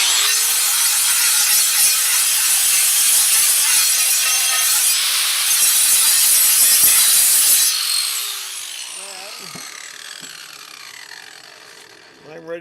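A power grinder works loudly and steadily against a mason's trowel, scraping hardened cement off the blade for about eight seconds, then winds down and fades, leaving faint handling noises at the end.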